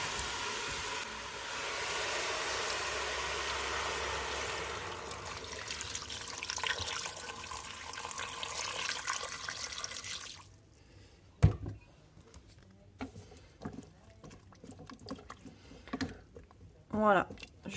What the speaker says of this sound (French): Et je vais mettre de l'eau à hauteur.